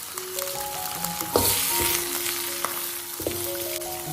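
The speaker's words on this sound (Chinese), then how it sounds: "将骨头放下去煎一下" Pork bones pan-fry in camellia oil in a steady, moderate sizzle with a few brief knocks and clinks, heard close with no talking.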